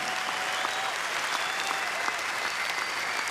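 A crowd of golf fans applauding, a dense, continuous wash of clapping from many hands that holds steady throughout, heard without any talk over it.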